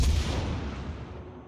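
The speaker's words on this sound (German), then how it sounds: "Und da sind die ersten Granaten unterwegs." A single heavy naval gun salvo from a cruiser, the Chikuma II, in World of Warships: a booming blast up front that rolls off into a decaying rumble, alone with no talk.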